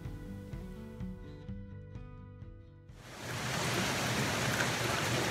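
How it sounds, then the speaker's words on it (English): Music plays briefly, then gives way to a loud, steady hiss of rain falling outdoors by Puget Sound in the Pacific Northwest. "I think you might be able to hear the rain and the Puget Sounds right behind me here."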